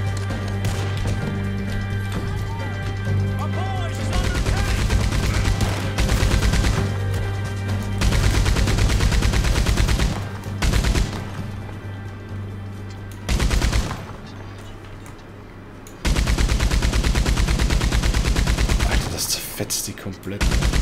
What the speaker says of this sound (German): Alter, Maschinengewehr.